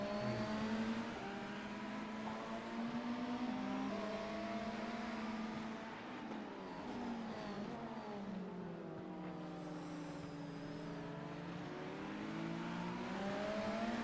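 Race car engines in iRacing at the Daytona 24 Hours, a hypercar and GT3 cars droning at high revs, pitch sliding up and down with gear changes and passes, steady and alone without talk.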